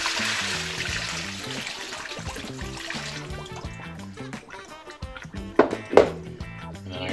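Water from a pot of boiled potatoes being poured out, a steady rushing splash that tapers off, with a couple of sharp clanks of the pot near the end.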